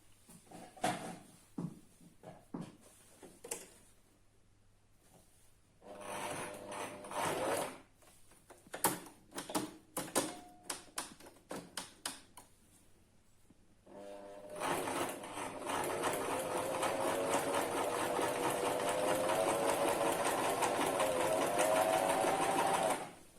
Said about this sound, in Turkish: bir santim boşluk bırakarak makinede dikişimizi dikmeye başlıyorum